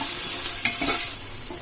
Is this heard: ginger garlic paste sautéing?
yes